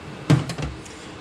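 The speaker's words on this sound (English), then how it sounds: "the drawers are nice, open really well." A 1970s Waterloo metal toolbox drawer slides open and shut, heard as a loud clunk followed by a softer sliding rattle and a closing thud, close by in a quiet space.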